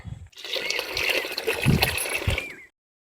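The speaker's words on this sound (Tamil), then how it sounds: "குழம்புக்கு தேவையான அளவு தண்ணி சேர்த்துக்கிறேங்க" Water pours steadily into a fish curry of rock fish being cooked, a close, continuous splashing and trickling stream lasting a couple of seconds before stopping abruptly.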